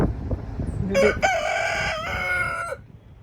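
Chickens near a backyard chicken shack give a loud burst of crowing and clucking calls, with sustained harmonic cries lasting about two seconds over a rustling background.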